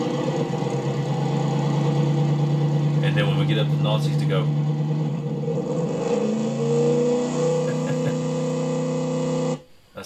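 Engine of a 1974 Dodge Monaco replica with rear-wheel drive and a 3-speed automatic in the Automation car game, idling then revving in a loud sustained drone, with someone talking over part of it.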